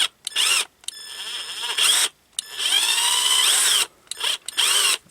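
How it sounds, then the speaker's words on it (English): A power drill backs a slightly stripped screw out of a Commodore 64 Mini controller, giving several short, loud whirring bursts separated by brief pauses, with no talking. "Now that we got it drilled in, let's take it back out."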